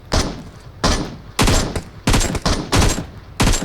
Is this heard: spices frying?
no